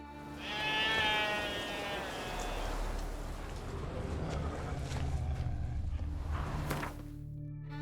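Sheep bleating in the video game The Witcher 3, with a loud harmonic bleat near the start and further bleats and livestock noises over a busy ambient game soundscape.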